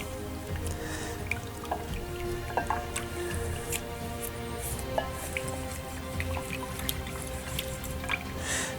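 Wet swishing and dripping as a brush scrubs mold release off a model part in a tub of water, with irregular small splashes and drips continuing close by throughout.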